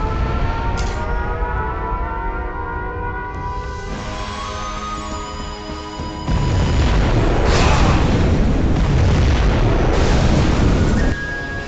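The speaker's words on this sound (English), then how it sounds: "We have launched our nuclear missile." Nuclear missile strike in Command & Conquer Generals Zero Hour: a loud, sustained roar and rumbling blast that swells midway into a heavier, deeper wall of explosion noise, close and dense, with faint wailing tones layered through it.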